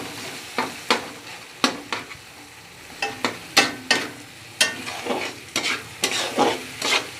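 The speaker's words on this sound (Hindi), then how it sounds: "और ½ टीस्पून मैं डाल रही हूँ ये हल्दी और इनको मैं थोड़ी देर के लिए भून लूँगी" Spices and turmeric fry in oil in a pan for sarson ka saag, a steady soft sizzle broken by repeated sharp scrapes and clinks of a spoon stirring, close and with no talk.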